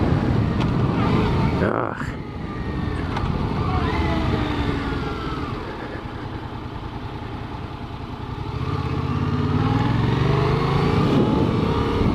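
Motorcycle riding with an engine drone that rises and falls through gear shifts, near and steady, with the pitch sweeping as it accelerates, dips briefly and picks up again toward the end.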